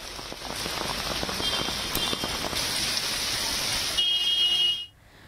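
Heavy torrential monsoon rain pours down across Mumbai in a dense, steady roar of drops on hard surfaces, loud and close, with faint traffic beneath before it cuts away near the end.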